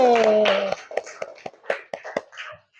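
Classroom students give a short round of applause for a classmate, a few scattered, uneven claps following a teacher's voice, fairly close and modest in volume.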